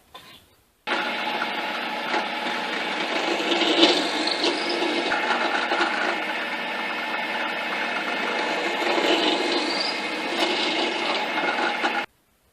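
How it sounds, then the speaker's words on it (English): A power drill bores holes into a wooden base made for an ant farm, a steady loud whirring grind for about eleven seconds, close up, with no talking. "Now I'll drill 2 holes to the bottom of the base"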